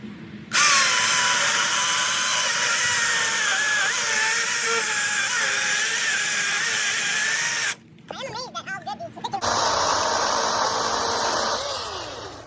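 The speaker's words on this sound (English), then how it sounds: "Your saw is nice and sharp when you're getting big shavings like that and it's not powder coming out." A sharp power saw cuts through an 8-inch hardwood log with a loud, steady high whine for several seconds, a brief break of clatter, then the cut resumes before winding down.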